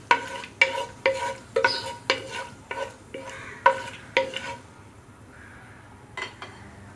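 Cinnamon pieces and cardamom pods fry in hot oil while a spoon taps and scrapes the pan in a quick series of sharp metallic strokes, about nine in a row over a light sizzle, then a pause and two more knocks.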